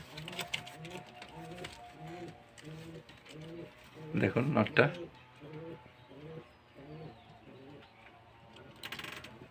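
Pigeons coo in a steady, repeated low rhythm close by, while a person speaks briefly over them in the middle.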